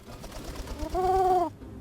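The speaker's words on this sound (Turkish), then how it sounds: "Right now this little guy is your only pigeon." Pigeon cooing in the video game Bum Simulator, a soft rolling coo that rises into a clear, louder tonal call before stopping abruptly, close and alone.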